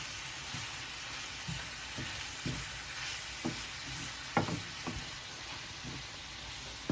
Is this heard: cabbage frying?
yes